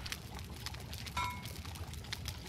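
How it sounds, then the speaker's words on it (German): Molten metal poured in the video game Life is Feudal gives a soft, continuous liquid pouring sound with faint splashy crackles and a brief tonal ring midway, quiet and alone. "dann gieße ich ja gerade perfekt"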